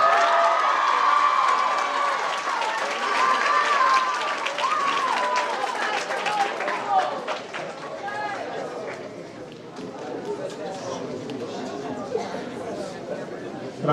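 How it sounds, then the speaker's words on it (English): Sustained applause and cheering from an audience at the 2022 Texas awards ceremony, dense clapping with whoops that gradually thins out, while a presenter speaks over the crowd. "let's give El Paso a big round of applause"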